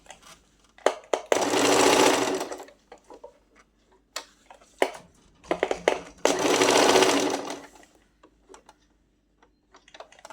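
A sewing machine stitches in two sustained close bursts of rapid whirring, separated by clicks and taps as the needle is stopped, the presser foot lifted and the fabric turned.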